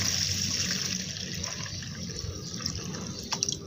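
Water poured into a container and mixed with molasses and EM4 solution while preparing bokashi organic fertilizer, a steady close splashing trickle with faint drips, no talking.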